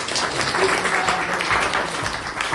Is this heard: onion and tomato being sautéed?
no